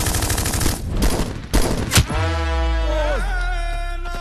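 Rapid automatic gunfire in an action scene, a whole magazine emptied in loud bursts that end abruptly, followed by a ringing tonal sweep and low rumble.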